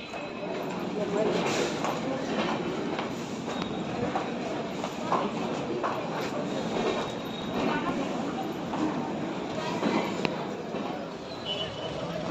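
A local train running from Ghatshila to Tatanagar, heard from inside as a continuous rumble with rhythmic wheel clatter over the rail joints while people talk in the background.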